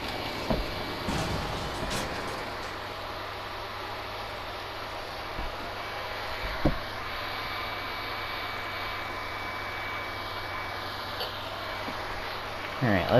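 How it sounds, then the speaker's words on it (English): A PlayStation console fan roars steadily while cooling down after a demanding game, a constant whooshing hum broken by a few faint clicks and knocks. "sorry for the noise, my PlayStation's trying to cool off."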